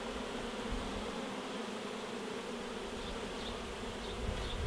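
A dense, steady hum of many honeybees flying out around nucleus hives as bees are added, close and continuous with no voices.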